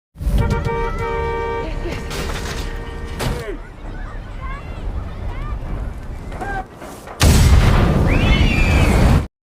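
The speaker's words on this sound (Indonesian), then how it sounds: "Ledakan besar terjadi" A loud, sudden blast erupts with a broad roaring burst of noise as a fuel tank at a gas station explodes, following a stretch of rumbling, chaotic sound with tones and voices.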